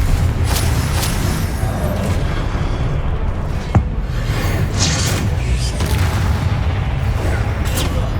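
A Confringo fire spell explodes during Hogwarts Legacy combat on PS5, a sharp boom landing amid a dense, steady wash of battle noise and whooshes that fills the whole stretch.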